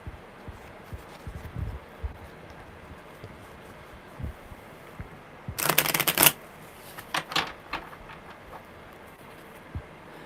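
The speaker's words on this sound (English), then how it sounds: "Okay, one more good shuffle." A deck of tarot cards is handled with faint taps, then one sharp, loud riffle shuffle, followed by a few lighter bridging flutters and quiet pauses, all up close.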